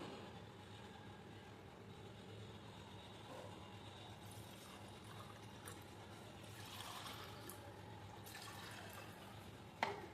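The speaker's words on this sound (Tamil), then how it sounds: "இப்போ வந்து இந்த டம்ளரில் நம்ம ஊற்றிக்கலாம்" Strawberry jelly liquid trickles quietly into a glass tumbler, a faint, steady pour with soft dribbling and a small clink right at the end.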